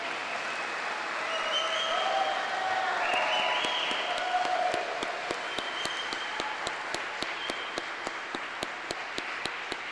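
Steady applause from an audience at a California Army National Guard promotion and change of responsibility ceremony, dense clapping across the whole stretch that thins toward the end into a few distinct, evenly spaced claps.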